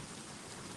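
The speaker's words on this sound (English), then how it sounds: "You hear the thunder" Steady rain hisses evenly and broadly throughout, a constant wash of falling water at low level with no distinct thunder clap standing out and no voices.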